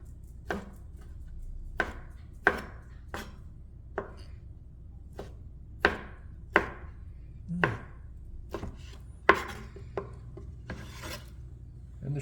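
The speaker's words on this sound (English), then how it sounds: "So now you got a little bit of boring chopping to do." A knife chops shrimp and salad ingredients on a cutting board for a Caribbean salad, giving a steady series of crisp, close strikes about once a second, heard alone without talk.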